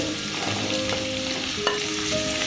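Pointed gourd (potol) fries in oil in a pan for a pui chyachra, a steady close sizzle with occasional stirring clinks and scrapes and one sharp knock against the pan, with nobody talking.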